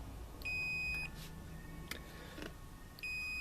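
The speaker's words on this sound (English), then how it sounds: "I hope you can hear my fluke indicating continuity." Fluke multimeter signalling continuity while testing a reed switch, two steady high-pitched beeps separated by a pause, clear against a quiet room with faint clicks.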